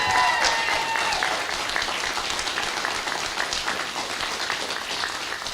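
A crowd claps and cheers loudly for Randy Weingarten at an outdoor get-out-the-vote bus stop rally in Osceola County, Florida, the dense applause starting strong and slowly easing over several seconds.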